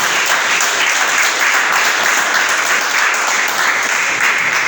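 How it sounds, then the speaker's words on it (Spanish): A church congregation claps together during a worship service, a dense, steady applause that fills the room continuously from start to finish without any talking over it. "¿Cuándo un aplauso al Señor?"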